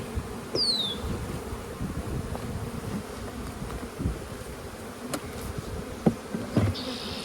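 Dense, steady buzzing of many honey bees close by at an open hive, with scattered brief clicks and knocks over the continuous drone.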